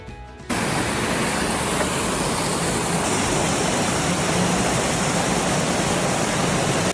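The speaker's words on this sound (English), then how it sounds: "You will get to see waterfalls along the way." A steady, loud rush of waterfalls at Watkins Glen State Park, New York, pouring continuously, a dense unbroken roar starting abruptly after a quiet moment.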